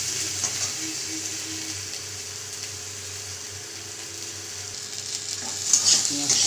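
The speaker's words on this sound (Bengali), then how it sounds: "পেঁয়াজটা একটু হালকা লাল করে ভেজে নেব" Onion frying with black cumin in hot oil until light brown, a steady close sizzle with occasional stirring and scraping, over a faint background hum, rising slightly near the end.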